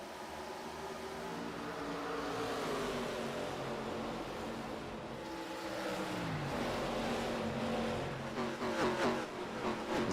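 Sim race cars battling on the track at Dover in an ARCA league race, a steady engine drone with rising and falling revs as cars pass, loud and continuous.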